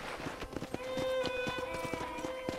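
Horse hooves in the video game Red Dead Redemption, clip-clopping in a steady trotting rhythm, close and distinct, with a sustained musical tone running beneath.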